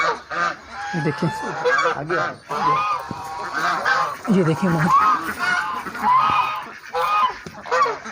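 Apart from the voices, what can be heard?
domestic waterfowl honking in a mini zoo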